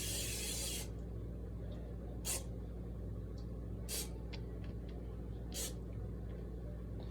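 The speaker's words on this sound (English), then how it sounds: "Spray it with nonstick on the sides mostly" Nonstick cooking spray hisses into a baking dish in four short bursts, one long spray followed by three brief ones, close and clear over a quiet kitchen hum.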